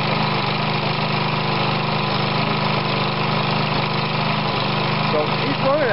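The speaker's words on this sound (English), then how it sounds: "So he's running at a nice idle, at a nice RPM" A Briggs OHV small engine idles at a steady RPM right next to the microphone, with an even, continuous mechanical drone and no change in pitch throughout.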